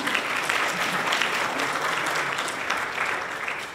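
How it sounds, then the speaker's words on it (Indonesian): A concert audience claps steadily in a hall, a dense, even wash of applause from many people that holds at the same level without a break. "Kita tepuk tangan dulu buat kehadiran kita semua."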